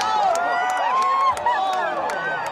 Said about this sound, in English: 3 miles away, a crowd of people erupting in awe